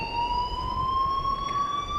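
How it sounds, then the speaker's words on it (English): An alarm rings in the video game Life Is Strange, a loud sustained electronic tone holding steady and slowly rising in pitch throughout, with no voices. "please turn off that alarm"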